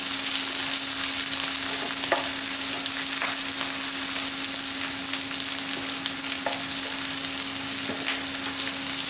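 Liver frying in a pan with curry leaves, a steady loud sizzle throughout, with occasional spatula scrapes and taps as it is stirred until dry.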